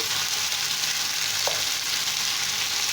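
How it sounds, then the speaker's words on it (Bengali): Potatoes frying in a pan over a medium flame for bhindi aloo posto, an even, close, hissing sizzle that holds steady throughout with no talking. "এবার আমি ফ্লেমটাকে মিডিয়ামে রেখে এর মধ্যে আলুগুলো দিয়ে আলুগুলোকে ভেজে নেব"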